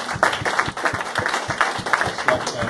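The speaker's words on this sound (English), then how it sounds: "Let's give a big round of applause to Derek in his all black." Audience at a stand-up comedy show applauds, a lively crowd of clapping with individual claps standing out, steady and moderately loud with a little crowd noise mixed in.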